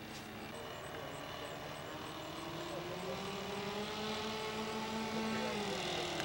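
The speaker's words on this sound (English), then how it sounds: "Nice low flyby." A floatplane at a float fly-in makes a low flyby, its engine drone rising and shifting in pitch steadily across the clip, continuous and fairly close, with a voice talking over it.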